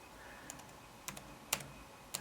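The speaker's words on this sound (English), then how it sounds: "scooch him over by using the little keyboard or the arrows on my keyboard" Computer keyboard arrow keys pressed, a few sparse, crisp clicks, single and paired taps spread irregularly over two seconds, close and quiet against a faint room hum.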